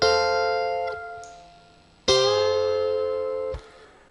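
Electric guitar bend imitating pedal steel in a solo: two chord-like picked hits, each sustained with a note bent upward, followed by a third softer attack, played alone without talk.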